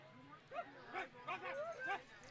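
Spectators at a Lincoln Potters versus Novato Knicks baseball game bark like dogs, several rising yelping calls in quick succession, moderately distant, with voices imitating dogs.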